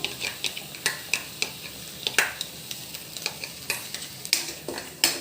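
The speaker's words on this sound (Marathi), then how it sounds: "काजूची पेस्ट टाकूया" Cashew paste stir-fried in a pan as a seasoned paneer do pyaza gravy is made, with steady rhythmic spatula scrapes and soft sizzling, close and fairly loud, with no talking.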